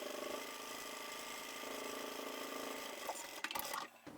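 A sewing machine runs in a steady, fast mechanical whir while stitching down an apron seam under the waistband, quiet and continuous, then stops with a few clicks and a brief pause near the end.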